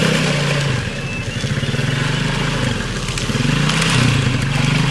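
Motorcycles ride through muddy water on a flooded road near Botmakak, a loud, close engine drone that swells and revs unevenly with rattling clatter throughout.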